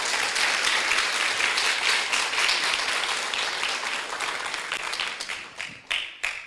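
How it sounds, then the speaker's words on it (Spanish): A church congregation applauds in a dense burst of clapping that gradually thins out and fades, ending in a few scattered last claps. "Un aplauso fuerte para el Señor."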